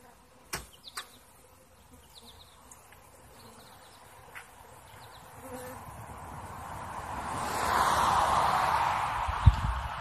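Bees buzzing in a low, swelling drone that grows louder and nearer as they are shut inside an enclosure, with a few brief clicks and knocks early on.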